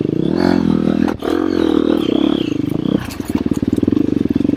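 An ATV engine runs loud and close while riding at an ATV park, a steady throaty roar that shifts into a choppier pulsing beat near the end, with no speech.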